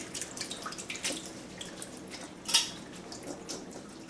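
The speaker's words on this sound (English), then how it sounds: "I'm adding a few cups of water to the grapes" A few cups of water go into a pot of whole Concord grapes for jam, heard as faint, close trickles and scattered drips, with one brighter splash midway.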